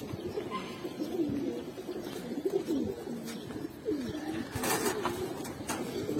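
Pigeons of giribaz, chila, green-necked and black-necked breeds coo at a pigeon market, several birds giving repeated soft throaty coos close by, with light clatter and bustle around them.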